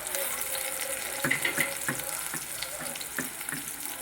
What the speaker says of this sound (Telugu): ఎరగడ్డ వేయాలి